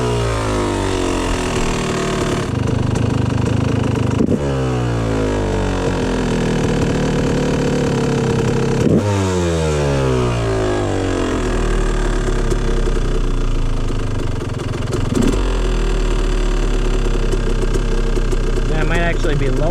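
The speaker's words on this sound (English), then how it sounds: "Let's see if the RPM, the idle RPM should increase a little bit." A Yamaha YZ250 two-stroke dirt bike engine idles steadily after a jetting change, loud and close, with a slight drop and wavering in pitch along the way.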